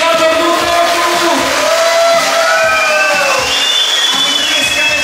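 Wedding guests in a hall cheer and shout loudly after the wedding cake is tossed, a dense, sustained roar of overlapping voices and whoops, with rising and falling voice tones carrying through the noise.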